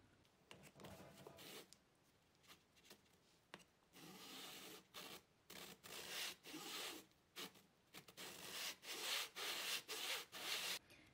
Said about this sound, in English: it would only take a couple of passes with my saw